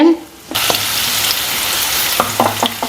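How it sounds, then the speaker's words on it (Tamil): Garlic hits hot oil after a brief quiet moment, bursting into a loud, continuous sizzle with scraping stirs and a few clinks of a spoon near the end, while cooking for a curry spice mix. "மீதி பூண்டு வந்து சேர்த்துருக்குறேன்"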